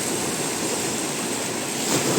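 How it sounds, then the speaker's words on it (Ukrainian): Sea waves break on a beach at Shengjin, Albania, a loud, close, continuous wash of surf with some wind rush and no speech. "Такі хвилі."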